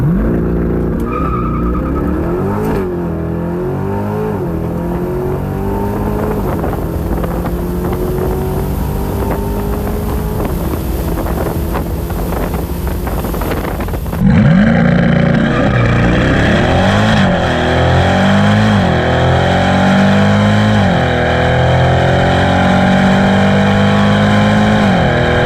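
A C8 Corvette launches on a quarter-mile drag run, its engine climbing loudly and close through rising revs with a sharp gear change midway, then pulling hard again; no talk.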